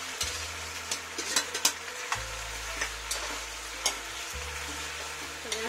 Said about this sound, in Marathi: गॅस जरा बारीक करते मी आधी आणि हलवून घेते व्यवस्थित